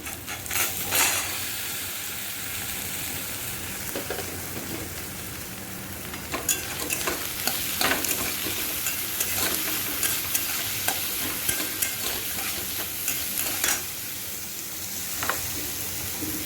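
Dal frying in a pan while being stirred, with a loud, steady close sizzle and repeated light scraping and clinking of the spoon against the pan, no talking.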